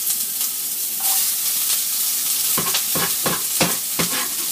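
Vegetables stir-fried in a hot wok, a steady sizzle and hiss broken by a run of sharp scraping stirs in quick rhythm, close and fairly loud, with no talking.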